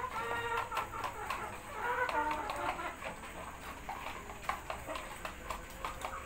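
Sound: hens eating papaya leaves

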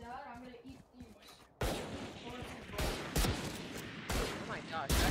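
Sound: gunshots from the video game Valorant

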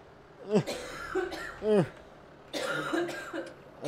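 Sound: cough

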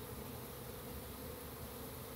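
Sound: honey bees buzzing

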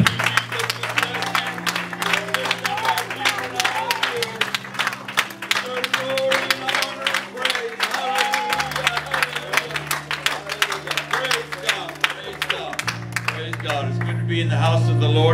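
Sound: church congregation clapping hands in praise

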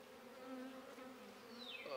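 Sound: Indian honeybees (Apis cerana indica) buzzing

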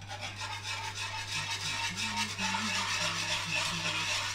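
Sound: whisking a mixture on the stove

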